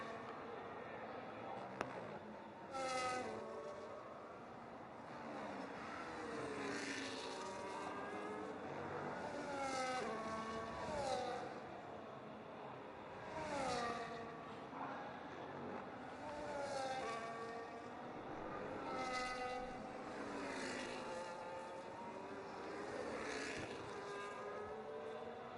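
Onboard engine of a McLaren race car lapping Imola in a sim racing game, a continuous high-pitched whine rising and falling through repeated upshifts and downshifts, loud and close with no talk over it.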